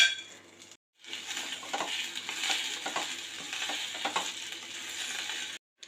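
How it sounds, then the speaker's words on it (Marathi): Boiled potatoes being sautéed in hot oil in a wok for dum aloo: a steady close sizzle with scraping stirs and occasional clinks of the spatula, opening and closing with brief silent gaps. "इथे मी बटाटा जो आहे तो फक्त तेलात परततीये"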